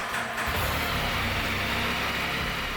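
A Can-Am Spyder RT motorcycle engine runs steadily at close range, a constant low idle rumble with no talking.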